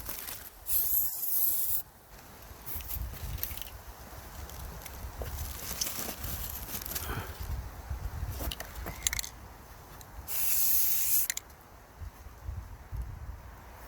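Rust-Oleum Painter's Touch spray paint hisses from a can in two distinct bursts, one short and one longer, close and bright, with handling rustles and faint clicks in the quieter stretch between them.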